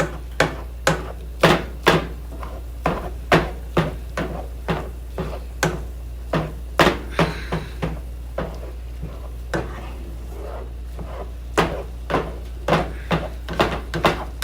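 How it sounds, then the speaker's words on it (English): A knife chops ground turkey for taco salad on a cutting board, giving a run of sharp, evenly spaced close knocks, about two per second, loud and clear with no talk over them. "And I'm gonna chop, chop, chop, chop, chop."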